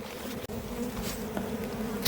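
Honey bees at a hive during an unexpected swarm, a dense steady buzzing drone that is loud and close and continues without pause, with no talking.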